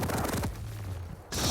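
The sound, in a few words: rocket launcher fire in Quake video game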